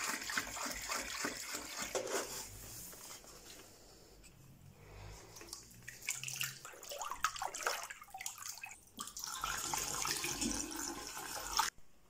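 Tap water running steadily to make up fresh water for a reef aquarium water change, a continuous splashing flow that shifts in tone and level, with a brief pause near the end.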